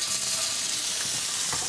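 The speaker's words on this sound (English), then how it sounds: "Once you've got all the sides seared, I'm going to turn the temperature down to low for a minute." Filet mignon steak sears in a hot pan with a steady, close sizzle, joined by a few faint scraping clicks near the end.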